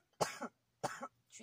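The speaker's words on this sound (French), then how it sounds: "J'ai une aiguille au fond de la gorge qui me fait tousser à chaque fois." A woman coughs twice in quick succession from an irritated throat, each cough sharp and close, followed by a fainter third burst.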